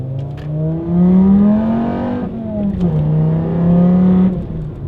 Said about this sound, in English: I love the sound of this engine anyways.